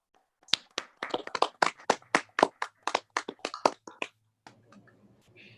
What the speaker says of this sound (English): Please join us in giving all of our student speakers a round of applause